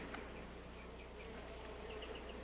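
A swarm of bees drones faintly and steadily in an outdoor western setting, a continuous low buzz with no voices.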